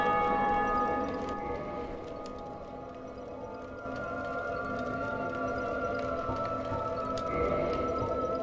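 Bell ringing in the Dark Souls video game, a resonant metallic toll with long humming overtones that fade and return, over a low rumbling in-game background with faint scattered clicks.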